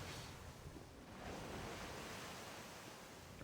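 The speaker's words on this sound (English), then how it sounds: "Oh, it's hidden behind the waterfall." A waterfall in the video game Danganronpa V3 rushes as a steady, broad wash of falling water, constant and fairly soft with no other sounds over it.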